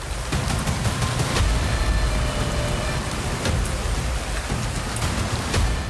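Heavy rain pours down in a steady, dense hiss with a low rumbling undertone, constant and close throughout, with no voices.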